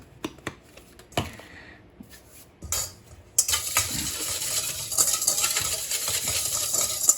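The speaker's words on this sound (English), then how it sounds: "Give it a little bit of a mix." Potatoes with garlic powder seasoning for vegan salt and vinegar potatoes: a few sparse clicks and taps, then a steady close rustling, scraping toss of the mixture in a bowl.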